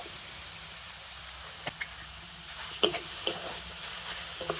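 Grated beetroot and carrot hit a hot pan with salt and start sizzling, a moderate steady hiss with a few sharp spatula taps and scrapes growing busier toward the end.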